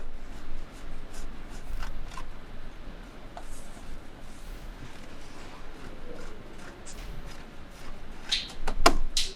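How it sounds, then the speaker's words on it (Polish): Mozzarella cheese is rubbed against a grater in quick, soft scraping strokes, close and fairly quiet, ending with a sharper clatter. "Zetrzyj mozzarellę."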